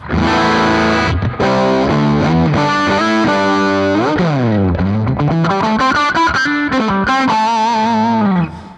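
A bright, distorted electric guitar plays loud sustained notes with slides and bends, the tone ringing full and clear.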